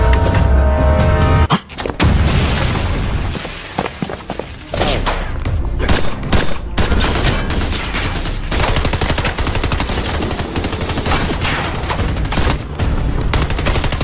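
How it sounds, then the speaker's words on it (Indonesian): Dense, loud gunfire fills an action-film shootout: rapid machine-gun bursts, single shots and booms overlap almost continuously with brief gaps. "sehingga terjadilah baku tembak"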